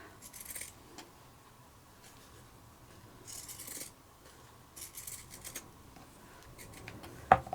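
Pinking shears cut fabric into small leaf shapes, giving soft crisp snipping and rasping bursts in short clusters with quiet pauses between them and a sharper clack near the end.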